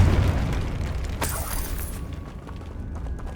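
A Confringo spell explosion in the Hogwarts Legacy video game on PS5: a low rumbling blast, then a sharp burst partway through that trails off into a fading rumble.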